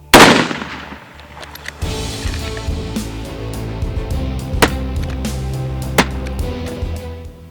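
A rifle fired from a heat-warmed barrel gives one loud sharp report at the start. Two later cracks follow, shorter and fainter, over steady outdoor background noise.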